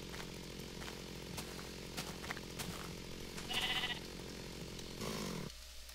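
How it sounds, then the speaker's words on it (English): Sheep bleating in a Minecraft-style survival game: a short bleat rises midway over a steady, busy game soundscape, with a second brief call near the end and no talking. "Oh, look, another sheep."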